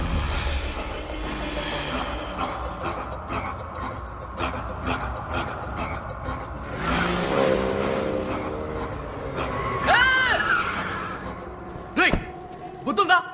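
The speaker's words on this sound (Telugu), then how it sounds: "కార్ బయలుదేరింది." A car pulls away in a scene from the Tamil film Valimai, its engine rumbling and rising under a busy mix of background music and voices, before sharper sounds near the end.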